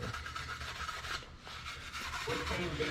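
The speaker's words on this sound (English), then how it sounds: "So we're just gonna kind of rub this along here and hit all the edges that we can." Soft, steady abrasive rubbing along the edges of a valve cover while applying a homemade patina finish, a faint continuous rasp with slight back-and-forth swells.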